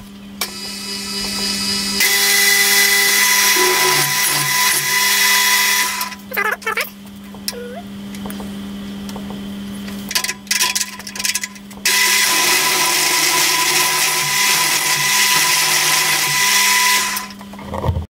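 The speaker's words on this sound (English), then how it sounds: "So I'll just get it started with this one, and then I'll stick a slot drill in it with a flat bottom on it." A power drill bores a hole with a drill bit in a part for a faceting machine, loud and whining in long runs broken by brief stops and restarts, with no talking.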